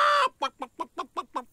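A short squawk followed by a quick run of six rhythmic clucks from a hen in an animated cartoon, close and clear.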